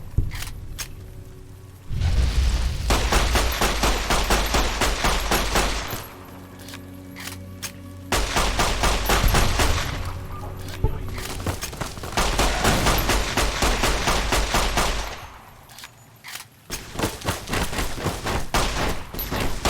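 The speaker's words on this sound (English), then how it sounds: "The anti-material rifle is destroying your armor." Anti-materiel rifle fire in Fallout: New Vegas comes through as loud, sustained volleys of heavy shots and booms in long dense stretches, broken by short gaps, with no talk.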